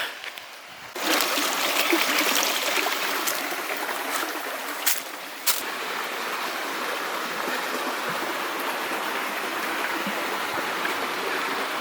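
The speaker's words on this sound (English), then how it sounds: "you can see a tiny bit of flowing water" A continuous wash of flowing water, steady and moderately loud, with a couple of brief knocks breaking through the rush.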